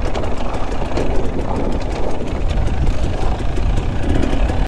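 A 2020 KTM 300 XC-W TPI two-stroke enduro motorcycle on a trail, its engine running with a steady, dense rumble that stays loud and close throughout.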